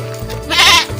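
A single short, loud bleat from a goat inside a Japanese cave, close and clear with no talk over it.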